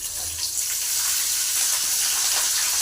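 Leaves are rinsed under a running kitchen tap, to be washed two or three times. Flowing water gives a steady close hiss with light splashing and no voices.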